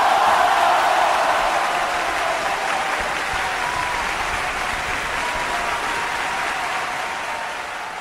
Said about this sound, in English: I just want to give him a quick round of applause for that.